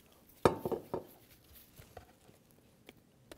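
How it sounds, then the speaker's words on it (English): A pizza dough ball set down onto an oiled sheet pan in a kitchen, heard as one soft thump followed by a few light clanks and pats of the metal pan, then quiet clicks. "And then we'll transfer that to an oiled sheet pan."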